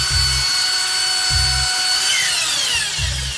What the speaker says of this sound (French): Tu as la perceuse?